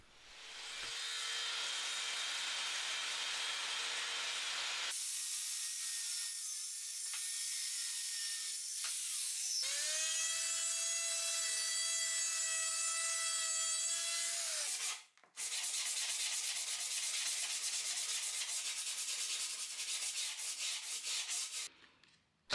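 Steady, loud rasping of a power saw cutting wood, sustained with changing pitch and a brief pause near the end, no voices.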